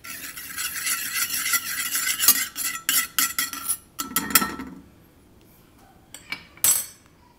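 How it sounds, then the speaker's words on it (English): Ghee melts in a pan for South Indian rasam while a metal spoon stirs and scrapes it. Close, busy clinks and rasping strokes come in bursts, then fade to a quiet pause and a last few scrapes. "Half a tablespoon of ghee, I melt it here."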